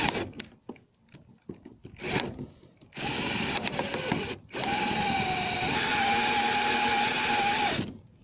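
A power drill bores a hole through a trailer connector protector, with short handling knocks first, then two sustained loud whirring runs, the longer one holding a steady pitch for about three seconds.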